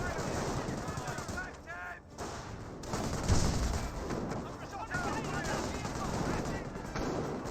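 Rocket grenades fire in a Company of Heroes battle, a dense run of sharp blasts and rattling gunfire mixed with other combat noise, steady and loud throughout, with a voice talking over it.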